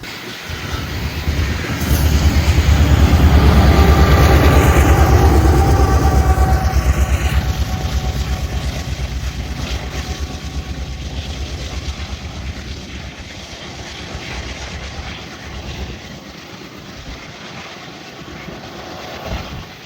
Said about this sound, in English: I see the headlights of a westbound grain train, which ended up having a Norfolk Southern AC